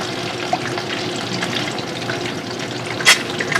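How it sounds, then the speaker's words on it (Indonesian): Fish and two eggs fry in a pan, giving a steady sizzle and crackle at close range with a few small pops and clinks. "Nah, lagi goreng ikan ya sama telur 2."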